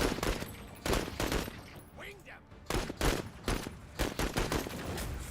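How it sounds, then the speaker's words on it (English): Rifle fire in the MENACE video game crackles in repeated bursts and single sharp shots, loud and irregular, with someone talking between volleys. "Let's just fire normally here."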